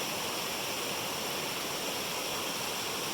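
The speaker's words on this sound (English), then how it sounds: "I walked down here to the river" Steady rushing flow of a river, a broad continuous wash of water noise with no pauses, fairly close and even throughout, no voices.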